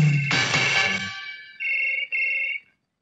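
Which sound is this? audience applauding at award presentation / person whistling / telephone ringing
telephone ringing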